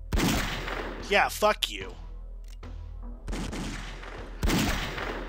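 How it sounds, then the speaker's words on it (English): Covering gunfire in The X-Files video game crackles in bursts at the start, middle and end, loud and close, with a voice speaking over the shots. "Man, talk about some covering fire."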